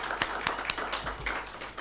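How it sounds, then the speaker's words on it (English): Audience in a hall at Ahmedabad Management Association clapping to welcome Deepak Pandya, a short, sparse scatter of claps with a few sharp, distinct hits, fairly faint and slightly distant. "clap for Deepak Bhai"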